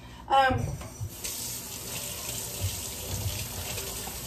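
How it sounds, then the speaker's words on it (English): Hands are washed under a running kitchen tap: a sharp gush as the water starts, then a steady close stream splashing into the sink, with a little talk at the start. "now I gotta wash my hands"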